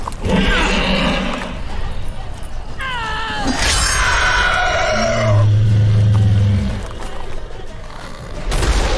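A horse in the video game The Witcher 3: Wild Hunt gives a loud, wavering whinny in the middle of the clip, with snorts and other game sounds around it.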